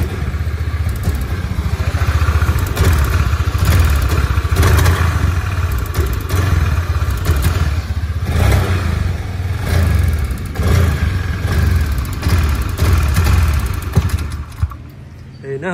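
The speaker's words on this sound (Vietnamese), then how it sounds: "Mình nổ máy rồi nha các bạn. Mình lên ga các bạn thấy tay ga mình lên nè." A 2010 Honda Air Blade scooter engine with a spark plug cap fault, which makes it bog when throttled, runs close and loud for the whole stretch, with uneven revving and mechanical clatter until it drops near the end.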